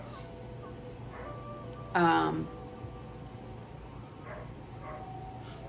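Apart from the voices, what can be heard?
dogs barking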